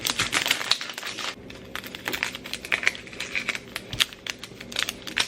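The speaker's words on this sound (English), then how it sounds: "Now what I'm going to do is cut up the onion." A knife cuts up a single white onion for a stovetop shrimp boil, giving a quick run of close, crisp chops and crunches on a board, irregular and steady with no talk.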